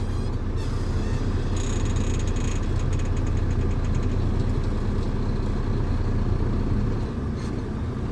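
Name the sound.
truck engine running in low gear during brake tug test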